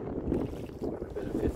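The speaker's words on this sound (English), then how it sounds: "Some gusts coming right now." Wind gusts buffet the microphone on a light rowboat out on Smith Creek in the evening, a rough low rushing that swells and eases in pulses.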